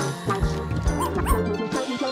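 A small dog yips, barks and whimpers in quick, close bursts, with whiny rising cries mixed among the short barks throughout.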